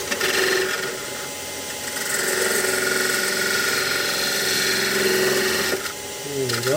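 A skew chisel cutting end grain on a wood lathe, heard as a steady whirring and hissing cut that drops briefly near the end and then resumes at close range, with a voice speaking over it.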